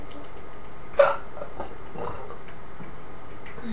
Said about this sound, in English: Sorry guys, I got the hiccups.